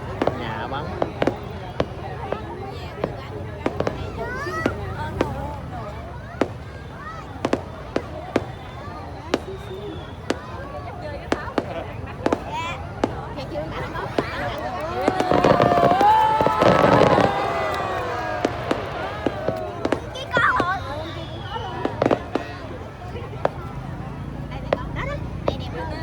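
New Year fireworks in Binh Duong burst over a crowd, a dense run of sharp cracks and booms across the whole stretch, loudest midway, with people talking and calling out throughout.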